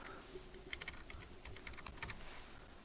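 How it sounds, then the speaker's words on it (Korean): Faint, close tapping of a computer keyboard as a ten-digit Zoom meeting ID is entered, a quick run of separate keystrokes in short bursts. "미리 문자로 받았던 회의 아이디 숫자 10자리를 적어 보겠습니다"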